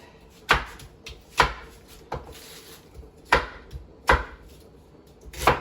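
A knife chops onions on a cutting board, six sharp, close thuds spaced irregularly about a second apart, with quiet pauses between the strokes.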